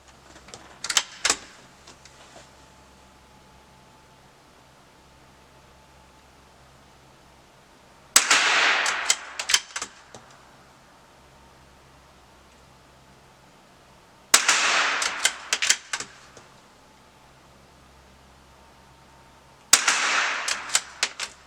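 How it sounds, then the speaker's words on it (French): Savage Mark II TRR SR rifle fired without a suppressor at a 25-metre range: four separate bursts of sharp, loud cracks spaced several seconds apart, each a quick cluster of shots with some echo, and no talking. "on va retirer 5 cartouches à 25 mètres sans le silencieux que je viens de démonter"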